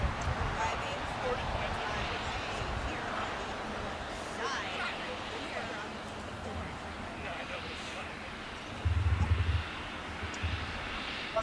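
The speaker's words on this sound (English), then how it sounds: "We are currently looking at Ava Air arriving from Taipei here on the north side, here on the 24s here at LAX." An EVA Air airliner arriving from Taipei on the north-side 24 runways at LAX, a broad distant jet engine roar holding steady while someone talks over it.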